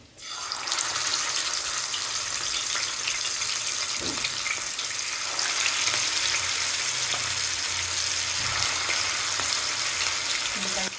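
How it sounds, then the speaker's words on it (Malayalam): Chicken frying in hot sunflower oil in a pan on a stove makes a loud, continuous sizzle and hiss. A couple of soft knocks come from the pan, and faint speech sits in the background. "ഇനി അടുത്തതായിട്ട് ഞാൻ ചിക്കൻ പൊരിക്കാൻ പോവാണ്."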